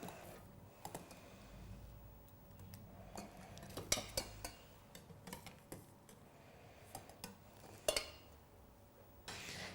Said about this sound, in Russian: Мы можем выложить тыкву